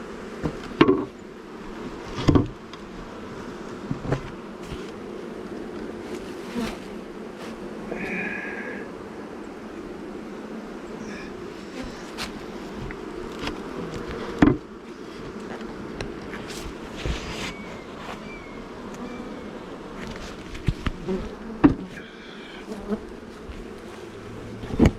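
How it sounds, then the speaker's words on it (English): Bees hum steadily inside an open beehive, a close continuous buzz broken by occasional clicks and handling knocks, with no voices. "I'm sure there's plenty of bees in here to make a cell"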